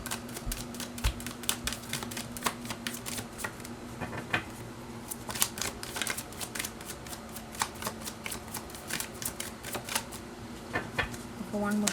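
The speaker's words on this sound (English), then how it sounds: "One more shuffle." Tarot cards being shuffled by hand in rapid riffling bursts, close and crisp, with a faint low hum underneath and a voice now and then.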